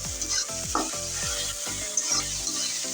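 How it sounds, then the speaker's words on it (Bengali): Shrimp sizzles in hot oil in a pan during preparation of a jali kumra (ash gourd) dish, with a steady frying hiss and regular scraping stirs repeating every half second or so, close and clear. "চিংড়ি মাছটা দিয়ে আমি ভালো করে তেলের সাথে ভেজে নিচ্ছি।"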